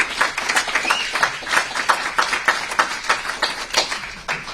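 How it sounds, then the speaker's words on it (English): Audience applause filling a hall at a political forum in Irvine, California, a dense steady patter of many hands clapping for the two speakers, moderately loud and continuous throughout with no talking. "one last round of applause for both David and Ken"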